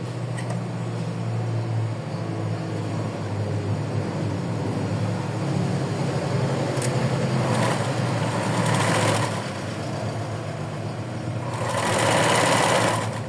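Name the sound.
sewing machine stitching doll's clothes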